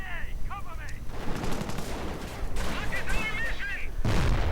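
Bursts of gunfire and artillery booms from a strategy video game, rapid crackling shots and heavier thumps layered into a dense battle din, with a louder blast near the end and faint synthetic chirps.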